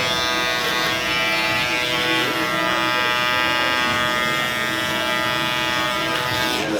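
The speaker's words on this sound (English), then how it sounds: "I'm going to go ahead and create my first guideline with the OA blade, as usual." Electric hair clippers with a detachable 0A blade buzz steadily and close during a skin taper fade barber haircut, a continuous bright motor drone with slight variation as it cuts, no voices heard.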